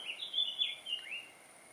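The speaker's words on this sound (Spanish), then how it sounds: "el sonido de los pájaros" A bird sings a short series of high, bright chirping notes, fairly close and clear, with no talking.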